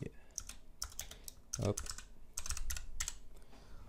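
Text is typed on a computer keyboard during a Photoshop design session, a quick irregular run of close, crisp key clicks with short pauses between bursts.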